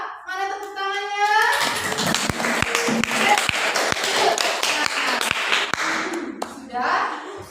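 A class of children claps hands in a loud, fairly rhythmic round of steady claps that runs for several seconds, with children's voices calling out at the start and end.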